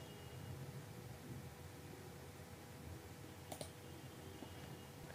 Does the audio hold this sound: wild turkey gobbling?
no